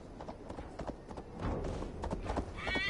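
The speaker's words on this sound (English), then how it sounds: "Summon horse with my power." A summoned horse in the Assassin's Creed Valhalla video game gives a whinny and then trots with steady clip-clop hoofbeats, moderately close, with no one speaking over it.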